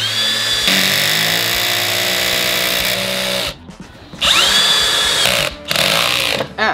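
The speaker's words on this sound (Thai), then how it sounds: "ผมจะลองเจาะไม้ด้วยน็อต ดูบ้างนะครับ" A Keyang DM18BL-W cordless drill driver drives a screw into wood with its clutch set low: a loud, close whining motor run of several seconds, a short pause, then two more bursts, the last brief.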